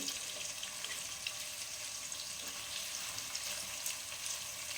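Paneer fries in oil in a pan, giving a faint, continuous, hissing sizzle that stays even without pauses or voices.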